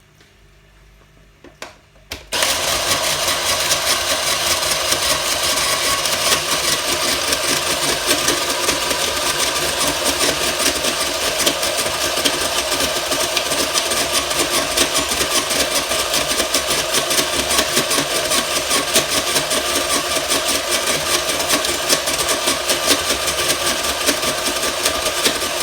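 An Argos snow cone maker switches on after a couple of quiet seconds and then runs loud and steady, a dense mechanical whir and grind of ice being crushed that continues unbroken to the end, with no talking.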